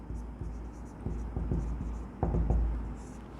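A pen scratches out a handwritten accounting solution in short, separate strokes with small pauses between them, close-miked over a low background hum.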